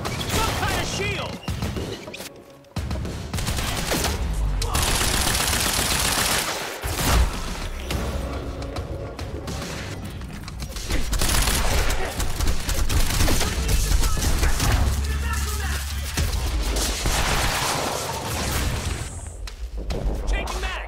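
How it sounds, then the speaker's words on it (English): Sustained suppressing gunfire in the Quantum Break shooter game, a dense loud barrage of shots and booms running almost continuously, with shouted voices over the firing. "Changing mags! Suppressing fire!"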